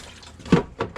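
Tap water runs over sunflower seeds in a strainer at a kitchen sink, coming as short splashing bursts of flow, the loudest midway and a couple of quicker gushes after, fairly close with no voices.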